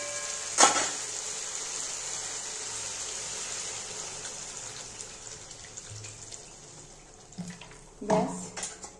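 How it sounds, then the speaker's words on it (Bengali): Broth is poured into a pan of sautéed vegetables for a fish roe curry, starting with a sharp splash and then a hissing, bubbling simmer, with clattering stirring near the end. "এবার আমি না ঝোল দিয়ে দেবো একটু।"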